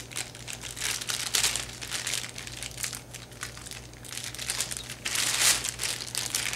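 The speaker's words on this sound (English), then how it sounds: "cut the whole cord in half" Close handling of Razer BlackWidow Ultimate mechanical keyboard packaging while its cord is cut: continuous crinkling and rustling plastic with scattered brighter crackles that swell near the end, and no voices.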